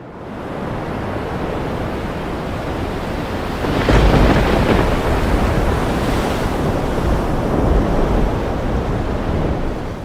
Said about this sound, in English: This storm just won't stop.